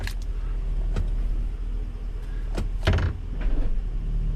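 A Chevrolet Tahoe with a newly installed transmission clunking into drive, a low steady idle hum broken by a few short thumps and knocks close by, with no talking.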